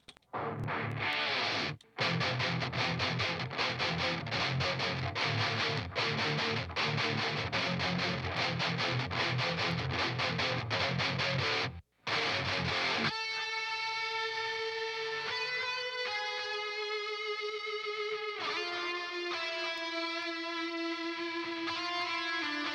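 Heavy distorted electric guitar chugs in dense, loud riffs with brief gaps, then giving way to cleaner sustained synth tones.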